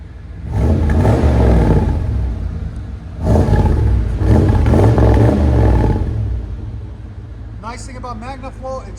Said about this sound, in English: Give it gas. You give it up, it fires up.